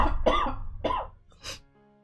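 Close, loud coughing from someone who is ill during a Pokémon Violet game stream. Two harsh coughs come in quick succession, followed by a shorter throaty rasp, with no speech.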